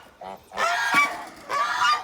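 A goose at its nest gives loud, harsh honks close by, a short call followed by two longer, raspy bursts separated by a brief gap.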